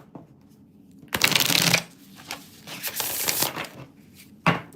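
A close burst of card shuffling: a loud riffle, then a longer stretch of cards sliding and rubbing, and a final sharp snap.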